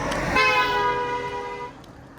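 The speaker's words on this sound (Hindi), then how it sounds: "ब्लॉग के अंदर भाई डिस्टर्ब करने के लिए हॉर्न दे रहा है।" A single sustained vehicle horn blast of about a second and a half sounds close by over background street noise at a fair.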